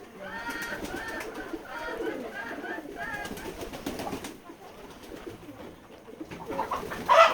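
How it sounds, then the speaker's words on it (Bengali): Pigeons coo in soft, repeated throaty calls at a pigeon farm, several birds overlapping nearby, with a brief flutter near the end. "এটা আমাদের ফার্ম হাউস, কবুতরের খামার।"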